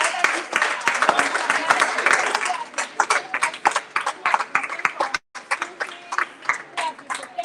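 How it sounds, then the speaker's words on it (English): An audience at a gallery unveiling ceremony gives a round of applause. The clapping is dense and loud at first, then thins into scattered, uneven claps that carry on for several seconds. "So please, let's give a round of applause to our elder brothers, our elder sisters, our moms,"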